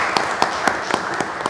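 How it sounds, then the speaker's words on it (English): A small crowd at a local candidates' forum claps for the candidates, with six sharp clap-like bursts at a steady rhythm over a quiet room background. "can we give our 3 candidates a round of applause?"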